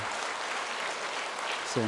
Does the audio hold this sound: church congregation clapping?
yes